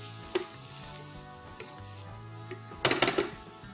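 Coriander and cumin powders stirred into a pan for coriander rice, a faint low sizzle under a few spoon scrapes and clinks against the pan, with a louder burst of stirring near the end.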